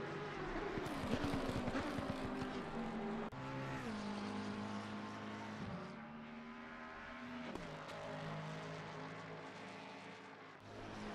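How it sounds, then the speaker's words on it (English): Ferrari race cars in a sim racing game at Zolder, a club race, their engines droning and shifting pitch continuously as several cars pass, loud and steady with no talk over them. "As you can hear the Ferraris coming down"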